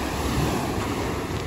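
Black Sea surf washing onto the beach at Kerch, Crimea, a steady broadband wash with wind noise across the microphone, continuous and fairly close, with no voices.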